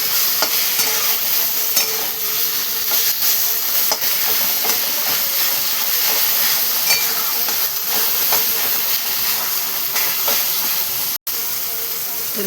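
A spoon scrapes and stirs roasted eggplant bharta in a pan over a soft steady sizzle, continuous close mixing with faint occasional clinks and no clear talk.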